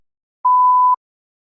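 A single clean electronic beep from a TOEFL speaking practice test marks the start of response preparation. It is steady, mid-pitched and lasts about half a second, sounding alone between silences.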